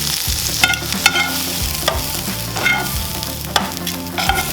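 Food sautéing in a hot cast iron pan, a continuous sizzle with repeated stirring scrapes and clanks at an irregular rhythm, close and fairly loud with no voices.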